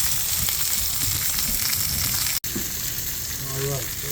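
Chicken thighs frying on a Camp Chef 36-inch Gridiron griddle, with a loud, steady sizzle that runs throughout, a brief dropout midway, and a faint voice near the end.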